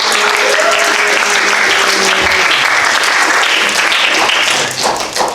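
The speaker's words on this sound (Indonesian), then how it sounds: "Kita tepuk tangan dulu dong untuk kelompok 1." A class audience claps for group 1 after its statistics presentation, loud, dense applause that holds steady and then thins out near the end.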